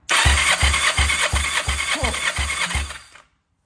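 An engine cranking over with the throttle held open during a compression test after oil was added to the cylinder, eight rhythmic, evenly spaced low pulses under a steady whine, stopping abruptly after about three seconds.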